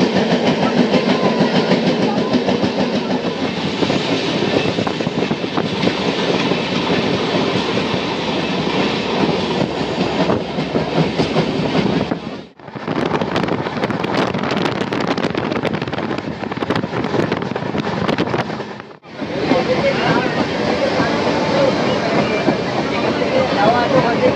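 The 12821 Dhauli Express pulls into Jaleswar railway station with a steady, loud rumble of rolling carriages. It fills the whole stretch and drops out briefly twice before resuming.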